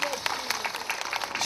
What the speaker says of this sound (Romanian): Încă o dată vă rog frumos să-i aplaudați,